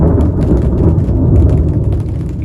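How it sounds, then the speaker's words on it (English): Thunder rolls through a storm near a greenhouse, a loud, continuous low rumble with rain hissing and pattering throughout. "And the thunder rolls."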